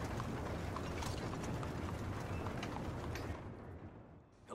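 Horse hooves in Red Dead Redemption 2 on a Black Arabian horse: a steady rapid clip-clop of galloping hooves over background noise, fading near the end.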